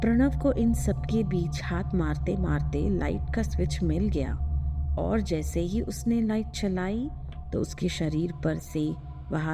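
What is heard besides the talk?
No everyday noises stand out.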